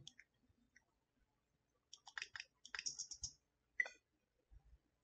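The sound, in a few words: SD card inserted into Nintendo Switch console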